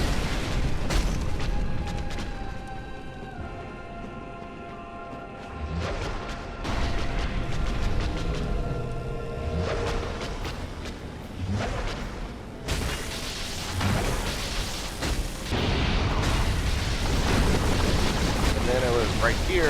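A boss in Dark Souls unleashes a loud explosion beside a pool of lava, a heavy booming burst that breaks through busy game music and combat noise, then rumbles on for several seconds.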